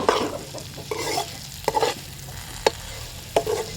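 Bitter gourd slices fry in a pan while a spatula stirs them, giving a steady close sizzle broken by several sharp scraping strokes against the metal.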